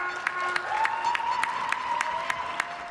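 Street applause for carers and supermarket workers during the coronavirus pandemic in the UK: brisk, steady clapping with sharp repeated claps close by and a continuous tone running underneath.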